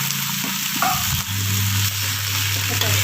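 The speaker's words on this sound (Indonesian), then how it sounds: "Ini sudah dibersihkan, dipotong kecil-kecil, dan ini dimasukkan semua, ditumis." Chopped chicken breast, cut into small pieces, sizzles steadily as it is stir-fried in a pan for chicken cap cay, with a loud continuous frying hiss and a few stirring scrapes and knocks.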